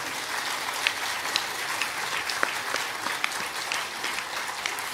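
A large crowd at a spiritual gathering breaks into sustained applause, a dense even roar of many hands clapping at once, steady and fairly loud throughout.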